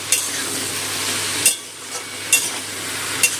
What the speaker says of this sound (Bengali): নুন হলুদটা সবজির সাথে মিশিয়ে দিয়ে সবজিটা ভেজে নেব।